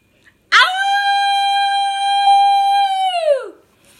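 A person imitates a wolf howling at a full blood moon: one long, loud, close howl that rises sharply, holds a steady pitch for about three seconds, then falls away into silence.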